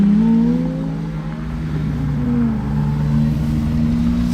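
Ferrari 430 V8 with an added exhaust, revving loudly close by as a steady, sustained engine roar with rising and shifting tonal pitch throughout.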